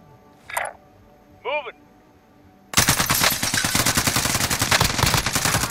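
Automatic gunfire in a battle royale video game, starting abruptly after a couple of brief voice sounds and continuing as a loud, dense stream of rapid shots to the end.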